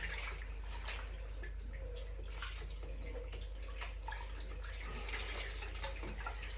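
Bath water running into a tub upstairs in a house, a steady muffled rushing that holds constant and sounds a room away, with no talking over it.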